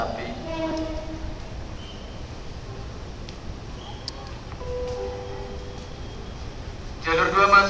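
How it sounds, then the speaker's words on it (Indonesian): Station ambience with the Cirebon Express train rumbling in along platform 2, a steady low roar under a public address announcement, with a brief burst of louder noise near the end. "Jalur 2 masuk kereta api Cirebon Express dari Cirebon, jalur 2."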